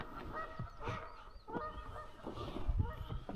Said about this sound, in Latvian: Ko tu ātrāk neteici, ka zosis mums uzbrūk?